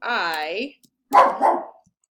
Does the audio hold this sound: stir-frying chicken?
no